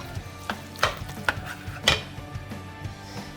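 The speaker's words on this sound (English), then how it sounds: "now I'm gonna go ahead and add my garlic seasoning and mix it up" Guacamole with garlic seasoning is stirred and mashed in a bowl, giving close, wet squelches and scraping clicks in an uneven rhythm of several strokes.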